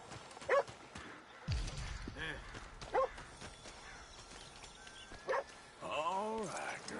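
Horse hooves in Red Dead Redemption 2, a few scattered clops among quiet game ambience, with a low thud and short animal calls near the end.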